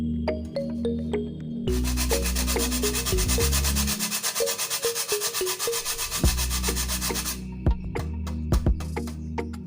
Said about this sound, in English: I'll be grating some nutmeg